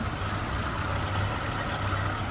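Chevrolet C10 pickup truck engine running after a new battery and carburetor work, a steady low idle rumble close by, fairly quiet and even with no talk.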